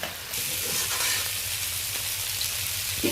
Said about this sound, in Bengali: নেড়ে নেড়ে কড়াইতে এইভাবে একটু গুছিয়ে দিতে হবে